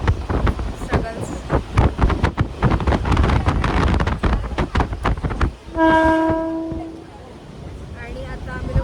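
Inside a moving suburban train, a rhythmic clatter of wheels over rail joints with rumbling and wind noise, and a loud horn sounding briefly partway through; voices can be heard in the carriage.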